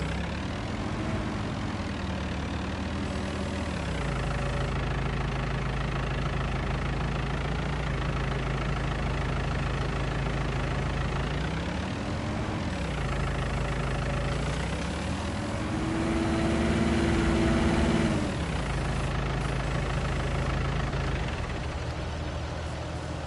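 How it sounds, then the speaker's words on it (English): A farm machine's engine runs steadily in the Farming Simulator 19 video game, a loud continuous idling drone that rises and dips in pitch a few times as it revs, with no talking. "Stop the engine."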